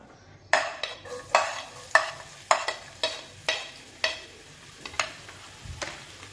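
Chopped onion frying in hot oil, with a steady sizzle under a dozen or so sharp stirring scrapes and clatters that come about every half second, close and fairly loud, for a dish of dhaba-style chana dal.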